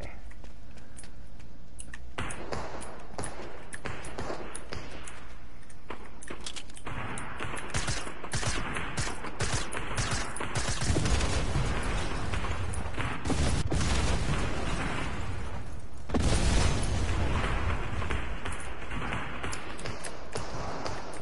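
Fortnite gameplay gunfire and explosions: dense, continuous volleys of rapid shots with heavier booms swelling midway and near the end, loud and busy throughout with occasional voice underneath.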